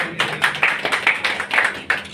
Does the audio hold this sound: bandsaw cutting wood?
no